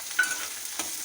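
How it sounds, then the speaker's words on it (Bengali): Onion frying in hot oil for chicken khichuri hisses in a soft, close sizzle, broken by a couple of quick scraping stirs in the pan, with no talking. "তেলটা গরম হয়ে গেলে আমি পেঁয়াজটা ভাজবো"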